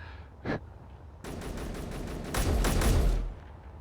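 Automatic gunfire in the space game Space Engineers, one short burst followed by a sustained rapid fusillade that grows louder, then ends, close and without talk.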